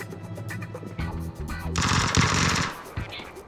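Gunfire in the PUBG video game: a run of sharp shots crackles loudly for a few seconds, with broadband bursts of automatic fire over scattered lower impacts.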